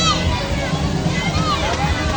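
People splash and wade in cold, clear river water at Timbugan River Park in Bailen, Cavite, with steady sloshing and gurgling close by, under children's voices and general chatter.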